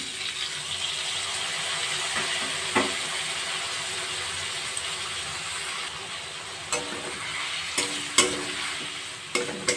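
Potatoes, carrots, beans and tomato with cumin and coriander powder sautéing in a pan for semolina khichdi, a steady sizzle broken by scraping stirs and sharper clinks of a spoon against the pan toward the end.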